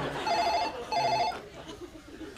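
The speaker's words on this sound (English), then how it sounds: "5 bloody times I've tried to phone you and it just kept ringing out." A telephone gives two short ringing bursts in a classic double-ring pattern, fairly loud and close over a low murmur of room noise.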